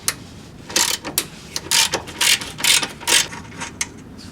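A ratchet wrench clicks in quick bursts as it backs a bolt off a Chrysler PT Cruiser motor mount, the loud close ratcheting coming in several short runs with brief pauses between them.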